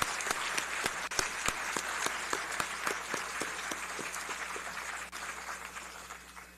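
Sustained applause from a school ceremony audience honoring newly inducted National Honor Society students, dense steady clapping with a few sharper claps standing out near the front, no talk.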